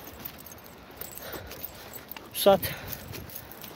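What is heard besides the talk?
metal chain rattling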